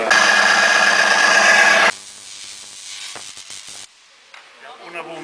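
A vibrator mounted beneath a demonstration device hums as a loud, steady buzz for about two seconds, then cuts off, leaving faint rattles and scattered quiet clicks.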